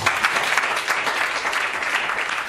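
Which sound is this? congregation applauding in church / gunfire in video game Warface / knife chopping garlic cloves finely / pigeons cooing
congregation applauding in church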